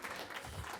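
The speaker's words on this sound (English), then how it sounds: "let's give them a round of applause" A brief burst of audience applause at a live science podcast show, dense and steady for under a second.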